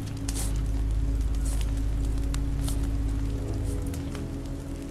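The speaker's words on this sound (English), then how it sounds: "This rain will turn to sleet." Steady rain falls in a game scene from The Walking Dead, a dense hiss of drops with scattered sharper patters over a low continuous rumble, even and unbroken throughout with no talk.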